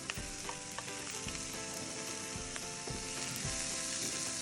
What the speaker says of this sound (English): Add in the chickpeas and corn pieces.